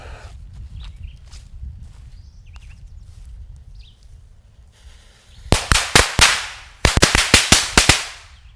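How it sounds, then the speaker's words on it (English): Firehawk Great Emperor firecrackers go off in two loud, rapid volleys of sharp bangs, about four cracks then six, after a stretch of quiet outdoor ambience. "Alright, these are Emperor crackers, the Great Emperor, and they're by Firehawk"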